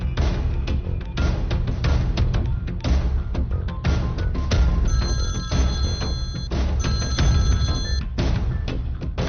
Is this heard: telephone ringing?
yes